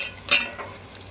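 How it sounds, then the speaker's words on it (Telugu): Curry leaves, onion and green chillies frying in hot oil, a short burst of sharp sizzling and a stirring scrape, followed by a softer, steady crackle. "కాస్త కరివేపాకు, ఆనియన్, పచ్చిమిర్చి వేసి వేయించుకోవాలి, కలుపుకోవాలి."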